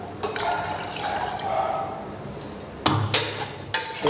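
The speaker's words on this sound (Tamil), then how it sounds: "இன்னைக்கு கூட கொஞ்சம் தண்ணி சேர்த்துக்கலாம்" A short stream of water splashes into a pot of chicken soup, nearby, followed by a couple of sharper splashy pours.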